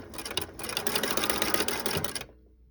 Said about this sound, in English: just sew the tag, I'm going to take this off, right on there